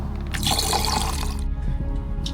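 Sparkling water pours steadily and close into a glass, a continuous fizzy splashing that thins out after about a second and a half.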